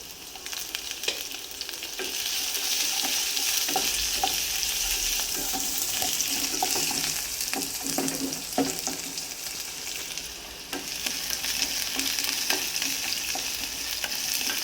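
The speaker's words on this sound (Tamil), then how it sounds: "வெங்காயம் நல்லா வதங்கினோன்னே தக்காளி போட்டுருவோம்" Onions and tomatoes sautéing in a pan for dhal, a continuous close sizzle broken by frequent clacks and scrapes of stirring, loud and steady throughout with no talk.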